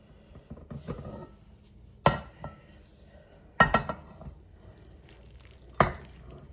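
A cabbage casserole mixture is scooped and pushed into a 9 by 13 baking dish, giving a few sharp utensil scrapes and clanks against cookware separated by quiet pauses.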